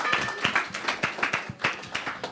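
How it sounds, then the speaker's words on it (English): A brief burst of scattered clapping from a small group, uneven and sharp, rises and falls in irregular bursts at a Sunday temple gathering after a pizza-making class. "everyone, round of applause for the class"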